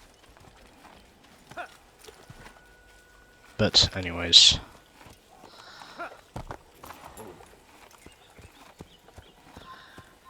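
A horse in the Assassin's Creed game on PS3 clip-clops along with soft hoofbeats and a brief loud whinny, while someone speaks briefly over it.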